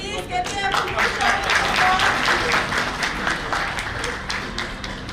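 An audience at a national convention's valedictory session applauds for a Lenovo laptop sponsor, a dense wash of many hands clapping, loud and sustained before tapering slightly.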